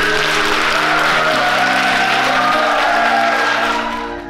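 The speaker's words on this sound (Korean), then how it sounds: "박수로 모두님 모시겠습니다" An audience claps steadily to welcome a guest speaker, sustained applause over background music with held tones, fading slightly at the end.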